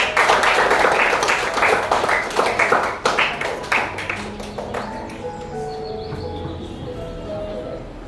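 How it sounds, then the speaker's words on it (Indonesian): A classroom of children in an Indonesian school claps hands together, a burst of quick, loud claps that thins out into scattered taps and then fades into quieter room sounds. "Tepuk tangan dulu."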